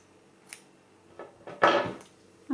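Scissors snip off crochet yarn on a granny square: a few soft, close handling rustles, then one clear cutting snip near the end of the quiet moment.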